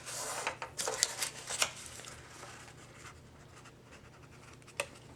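Paper is folded along a crease line for a small paper bag, with soft, faint rustles and light scraping strokes clustered early, then fading to near quiet with one last brush.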